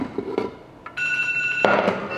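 A steady electronic alarm tone beeps for pressure cooker timing in a home kitchen, starting about a second in and running to the end, loud and close over faint background clatter.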